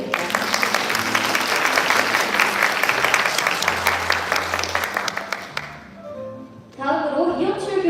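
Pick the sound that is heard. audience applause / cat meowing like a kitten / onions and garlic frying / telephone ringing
audience applause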